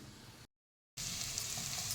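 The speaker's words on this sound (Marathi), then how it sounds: "छान परतून घेऊया म्हणजे याचा कच्चेपणा निघून जाईल" Ground spice paste sautéing in hot oil, a steady close sizzle that stops for half a second and then returns louder and denser, with no talking.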